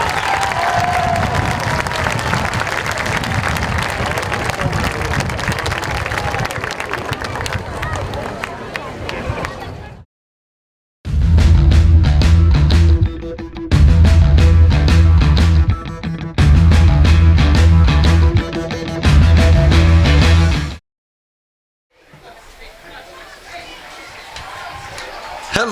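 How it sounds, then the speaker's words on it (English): A crowd at a Shaler Area high school football game applauds the 2021 homecoming court at Mount Royal Stadium, a broad wash of clapping and crowd noise for about ten seconds, then broken by abrupt silences and loud, booming bursts, with voices mixed in. "how about a big round of applause for your Shaler Area 2021 homecoming court"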